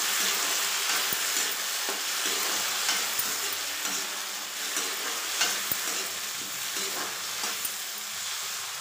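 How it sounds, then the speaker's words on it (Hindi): Onion and tomato fry and sizzle steadily in a pan, a dense continuous hiss with occasional stirring scrapes and small pops, close and fairly loud throughout with no talking. "अच्छे से इसको भूनेंगे"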